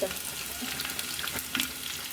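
Rice frying and being stirred in a pan while making pulao, a close, continuous sizzle with small scraping stir sounds throughout.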